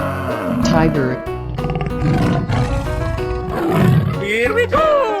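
Tiger roaring in a 3D animal video game, loud and continuous growling roars mixed with game music and effects.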